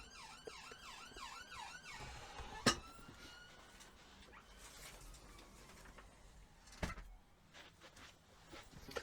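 An ambulance siren passing outside, heard faintly through a wall, its wailing rising and falling tone fading within a few seconds, followed by a thump or two and quiet room noise.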